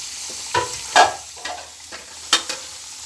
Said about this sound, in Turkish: bir taraftan onları kızartırken dediğim gibi bir taraftan da soğanlarımı kavuruyorum burada